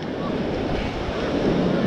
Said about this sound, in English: The waves are just about to get the fort